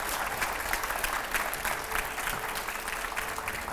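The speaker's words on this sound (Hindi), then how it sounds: "पहले तो जोरदार तालियां हो जाए इसके लिए एक बार।" A TV news studio audience bursts into steady, dense applause, close and continuous from start to finish.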